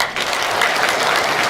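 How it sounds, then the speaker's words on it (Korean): Steady, dense applause from an audience at a press conference for foreign journalists in a Seoul press center, filling the room and continuing loudly without pause. "수고하신 김성현 회장님께 박수."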